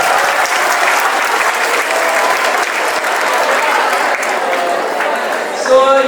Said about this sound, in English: big round of applause for her for coming here